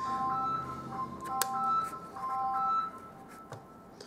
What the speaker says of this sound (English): Sorry about that noise with my phone.